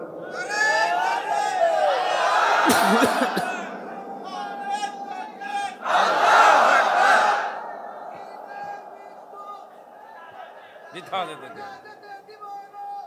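A large crowd at an Islamic sermon shouts religious slogans in unison, loud swelling call-and-response bursts rising over a preacher's amplified voice, with quieter talk between the chants.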